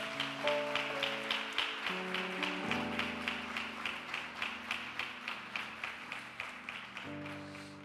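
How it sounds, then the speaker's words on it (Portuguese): Congregation in a church clapping along in a steady rhythmic beat, loud and close, over sustained music with held notes. "aplauda o Senhor"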